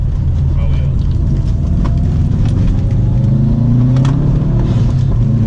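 A stock 2012 Subaru WRX STI accelerates along a rally stage, its engine a loud, steady, close rumble that rises in pitch as it pulls, with a voice talking over it.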